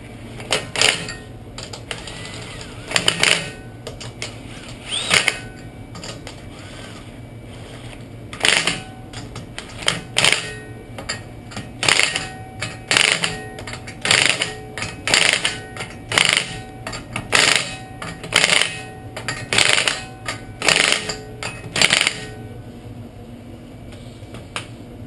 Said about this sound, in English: Using a torque stick here.